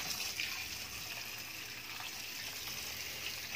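Water gushes steadily while adobong sitaw with mushrooms is being cooked, a continuous close splashing pour from start to finish with no talking.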